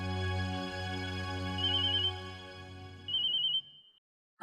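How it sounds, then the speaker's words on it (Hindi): Phone ringtone plays while a call is being placed, a steady electronic melody with sustained tones repeating in bursts, then cutting off abruptly. "मैं चित्रा को फोन करता हूँ।"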